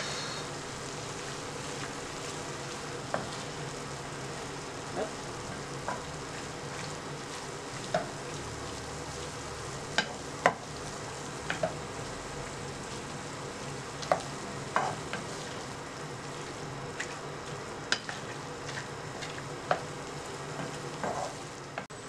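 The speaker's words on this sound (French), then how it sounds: "On rajoute un petit peu d'huile. Et on fait revenir le tout à feu doux." Meat sizzling gently in a little oil with onion over low heat for a bolognese lasagna sauce, a steady soft frying hiss broken by occasional clicks of stirring, close up with no voices.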